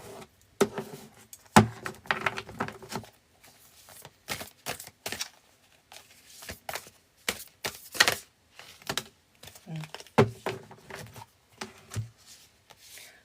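Tarot cards are shuffled in quick, irregular bursts of crisp riffling and slapping, close up, with short pauses between handfuls.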